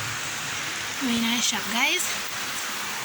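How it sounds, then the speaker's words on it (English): Heavy rain falls on the road in a steady, loud, close hiss that runs the whole way through, while someone talks briefly over it. "Heavy rain, heavy."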